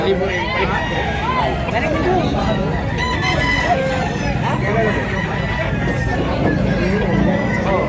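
Roosters crow repeatedly and chickens cluck at a busy poultry market in Tabunok, Cebu, the birds loud and close over a steady babble of people talking.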